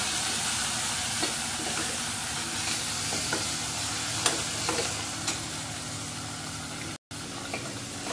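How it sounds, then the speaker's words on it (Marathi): Tomato with ginger and garlic cooking in a pan gives a continuous close sizzle and bubbling hiss, broken by a few light utensil taps and a brief cut near the end, with no talking. "टोमॅटो मस्त लाल होईल तोपर्यंत शिजू द्यायचा आहे"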